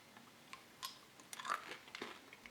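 Quiet, close chewing of V6 Dental Strong Mint sugar-free gum, with soft irregular wet crunches and mouth clicks over a faint background and no talking.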